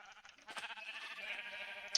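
Sheep bleating in Minecraft, a few short wavering calls overlapping close by, with a sharper bleat right at the end.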